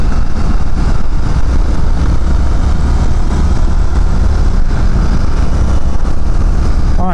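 A 2019 Indian FTR 1200 S motorcycle cruises at highway speed in sixth gear around 4,000 RPM, its engine a steady, loud drone mixed with heavy wind rush, continuous and unbroken with no talking.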